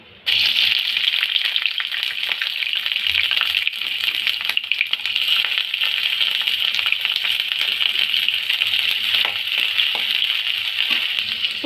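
Chopped onions frying in hot oil in a kadai while making Karnataka-style idly sambar, a loud steady hiss and crackle that starts abruptly and continues unbroken, close up and without talk.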